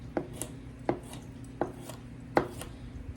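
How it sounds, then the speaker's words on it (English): A knife strikes a cutting board in steady, separate chops as vegetables are cut for a potato topping, about eight crisp knocks in slow even rhythm, close by with no talking. "the vegetables that we're chopping up now in our preparation is for topping on it"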